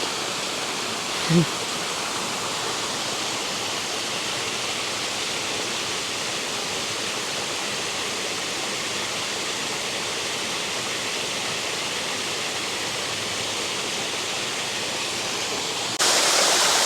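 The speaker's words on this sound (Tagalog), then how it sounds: "ito yung sinasabi nilang falls guys dito sa Baler guys" A waterfall at Baler, Aurora, gives a steady broadband rush of falling water from start to finish, with a brief faint knock near the start and a slightly louder rush at the very end.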